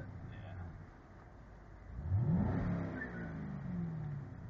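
A 2010 Chevrolet Camaro SS V8 idles low, then revs hard about halfway through in a rising surge before settling into a sustained throaty drone, heard from inside the car.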